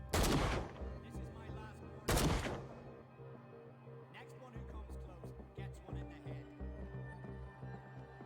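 Two loud, sharp gunshot blasts at the start and near the two-second mark ring out from a gun in the horror video game Call of Cthulhu, decaying into a tonal music score that continues with soft thuds.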